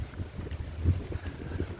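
Low, rumbling gusts of wind at a lake portage buffet the microphone in uneven pulses as rain begins, fairly quiet overall with no voices.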